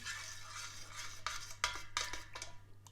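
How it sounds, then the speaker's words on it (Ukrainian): A spoon stirs elderflower kvass made with honey, lemon and room-temperature water, giving several sharp clinks and scrapes against the container over steady low background hum, close and fairly quiet. "Ми розмішуємо."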